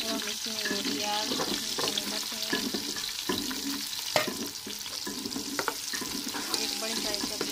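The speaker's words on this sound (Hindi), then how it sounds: "ज़ीरे को थोड़ा पका लेंगे और हम इसमें ये प्याज" Onions fry in a pot with cumin, cinnamon and black pepper, a steady close sizzle with intermittent stirring scrapes and clicks, continuous and moderately loud.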